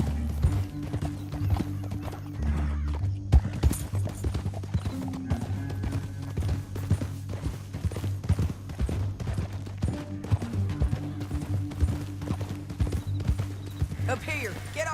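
Rhythmic clip-clop of galloping horse hooves in Red Dead Redemption 2 runs steadily under a low music bed, with a brief whinny and voices talking over it.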